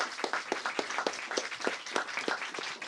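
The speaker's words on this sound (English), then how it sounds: "please give a round of applause for Brandon Terry." Audience applause at a book talk with Brandon Terry, scattered claps sounding thin and moderately faint, with no voices over it.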